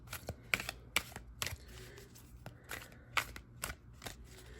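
Tarot and oracle cards are shuffled and pulled from a deck in a quiet room, producing a run of crisp, irregular papery riffles and snaps, close and faint, with no voices.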